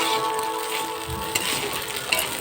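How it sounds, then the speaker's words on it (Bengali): Egg frying and being stirred in a pan, a soft continuous sizzle with faint scraping of the spoon and a couple of small clicks over a short stretch. "ভালো করে নেড়ে চেড়ে নিচ্ছি দেখো ডিম দিয়ে।"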